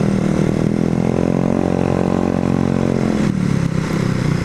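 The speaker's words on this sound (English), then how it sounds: "It's a bit of wind noise, but not so bad." A motorcycle rides along a Hong Kong road with a steady engine drone and buffeting wind noise throughout, fairly loud and close, with no talk.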